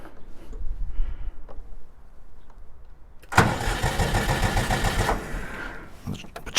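A Jinma 3244 HS tractor engine cranks and catches partway through after a few quiet clicks and shuffles, roars briefly, then settles into a lower, steady idle close by.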